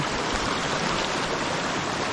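The Lumaka River flows past in a constant, close, full rush of water with no breaks.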